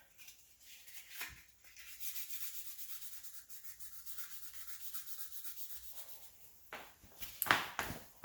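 Sandpaper of 800 grit rubs steadily along the plastic edges of a rear center garnish for a 1988–91 Honda Civic/CRX, a soft continuous scratchy hiss with a couple of brief louder scrapes near the end.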